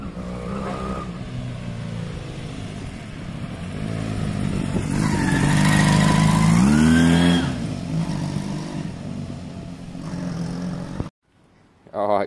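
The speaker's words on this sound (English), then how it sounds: "Right, listen for the kind of misfire or backfire." A motorcycle engine idles roughly, then revs up and falls back over several seconds, loud and close. It may stutter with a misfire or backfire, and it cuts out near the end.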